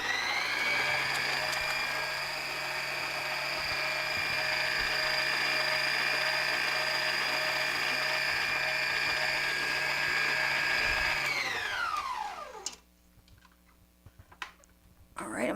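Electric hand mixer beating cream cheese and other no-bake strawberry cheesecake ingredients in a bowl, a loud steady whir that runs unbroken for about twelve seconds, then winds down and stops, followed by faint knocks.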